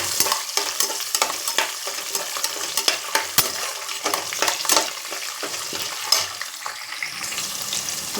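Small shallots stir-frying in a pressure cooker for vathakulambu rice, a steady close sizzle with repeated scraping and stirring clatter throughout, no talking.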